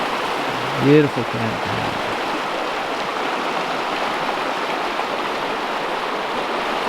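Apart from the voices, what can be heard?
river flowing by campground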